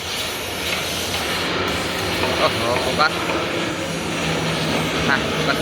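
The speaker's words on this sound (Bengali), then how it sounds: "লিটল টার্বো বিমানটি চলে এসেছে তার মহড়ার কার্যক্রম শেষ করে।" A small turboprop aircraft arrives after an air show display for the 54th Independence anniversary, a steady hissing engine drone holding across the whole stretch with faint crowd talk beneath.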